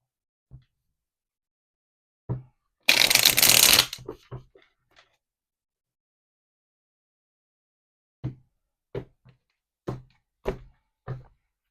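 Spirit Shield Oracle cards get a brisk riffle shuffle, one loud burst of about a second, followed by scattered soft thunks and taps as the cards are squared and set down in an otherwise quiet room.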